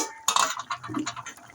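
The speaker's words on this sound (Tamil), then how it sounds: "குழம்பு கொதிச்சிட்டான்னு நல்லா திறந்து பார்த்துடலாம்." A metal lid lifts off a pot of simmering village-style chicken curry with a sharp clink and a few light metallic knocks, then a soft bubbling of the boiling gravy.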